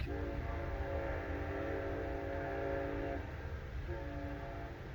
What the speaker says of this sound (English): That's a train, but that's kind of weird.